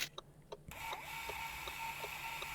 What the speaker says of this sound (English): Now we can clear on our printer the distance and price that was set.